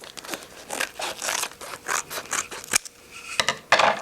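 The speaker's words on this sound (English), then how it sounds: "we can go ahead and cut it away from the carrier." Scissors cut a weeded vinyl design away from its carrier sheet in a run of short, crisp snipping and rasping strokes, close up and irregular, with no talking.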